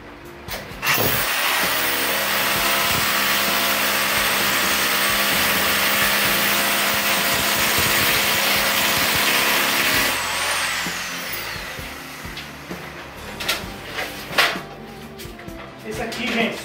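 A power drill bores holes during assembly of a bunk bed bridge, a loud steady whine held close for about nine seconds before cutting out, followed by clicks and handling noise, with a voice speaking.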